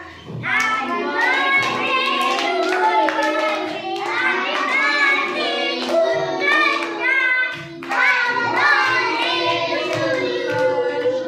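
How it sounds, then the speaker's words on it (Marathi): Hands clap in rhythm at a child's sixth birthday celebration, mixed in with loud group singing by several voices. "ओके चला टाळ्या वाजवायच्या."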